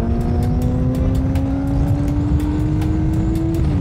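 A motorbike pulls away under hard acceleration, its engine a loud, close, steady drone that climbs slightly in pitch before dropping off near the end.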